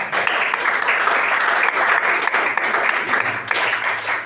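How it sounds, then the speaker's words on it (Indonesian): Steady, dense applause from an audience after a group's classroom presentation, many hands clapping continuously and fairly loudly for about four seconds with no pauses. "Berikan aplaus."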